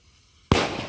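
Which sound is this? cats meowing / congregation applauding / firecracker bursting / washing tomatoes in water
firecracker bursting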